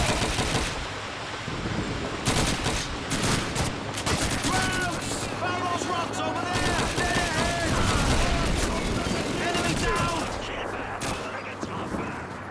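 Rapid bursts of rifle and machine-gun fire crackle repeatedly in a World War II battle in Call of Duty 2, dense and loud with overlapping shots over a rumbling background.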